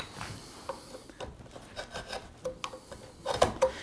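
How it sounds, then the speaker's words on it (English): A chisel cleaning out the corners of a hand-cut wood dovetail joint held in a vise, giving quiet, irregular scraping and rasping strokes at close range with no talking. "I need to get in there and clean up with a chisel"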